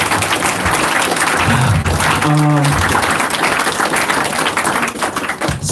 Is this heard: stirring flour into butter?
no